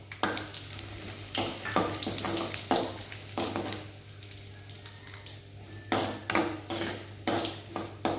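Dried red chillies frying in a pan give a continuous soft sizzle and crackle, broken by repeated scraping strokes and knocks of a utensil against the pan, with a low steady hum underneath and no talking.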